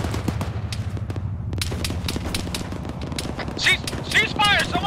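Gunfire in a military video game: close, sharp shots repeat rapidly in bursts over a low engine-like rumble, with radio-style voices talking toward the end.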